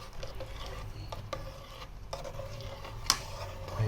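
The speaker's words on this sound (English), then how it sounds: "so I'm just go and stir this round" A spoon stirs rice and peas in a pot with coconut milk, scallion, thyme and scotch bonnet pepper, making soft scraping and light clinks over a low simmering bubble, with one sharper knock near the end.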